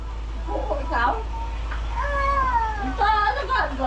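A cat meows and caterwauls in several drawn-out, wavering cries, close and fairly loud over a steady low hum, with people chatting in the background.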